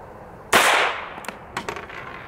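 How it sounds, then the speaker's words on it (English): A single sharp report from a .22 Long Rifle pistol firing a solid lead bullet outdoors at a lead block target. Fainter crackling follows from the shot's echo or impact. "I hope I can hit it from here at this 22."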